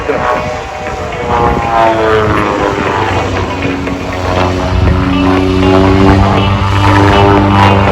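A Long-EZ aircraft flying a pyrotechnics display at the Gatineau-Ottawa airshow, its engine a loud, continuous propeller drone with steady whining tones that swell slightly toward the end, with faint voices beneath.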